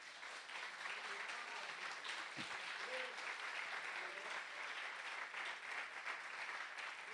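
A church congregation applauds steadily and loudly throughout, a dense continuous clapping that fills the room with no break.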